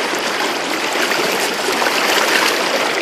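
Fast river water rushes steadily through a gold sluice box loaded with 1.5 inch unclassified rocks, a loud, continuous close-up gush and splash with no pauses.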